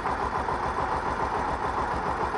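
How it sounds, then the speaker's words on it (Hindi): A Honda CBR 250R motorcycle engine runs steadily just after starting, a close, even idling drone with no change in pace and no voices. "उसके बाद गाड़ी स्टार्ट करके मैं आप लोग को दिखा रहा हूँ बाइक स्टार्ट हो चुकी है"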